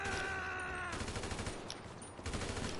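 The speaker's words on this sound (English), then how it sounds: "I'm getting shot at, Isaac" Gunfire in the video game Destiny comes as quick, faint rattling bursts of rapid shots, some in steady runs and some broken by short pauses, heard quietly in the background.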